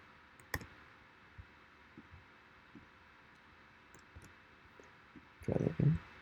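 Computer keyboard and mouse clicks during copying in a quiet room: a few sparse, faint single clicks, then a louder cluster of quick clicks near the end.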